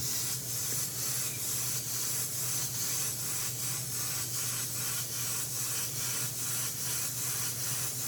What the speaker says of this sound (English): So I'm gonna back off and just very lightly mist this on.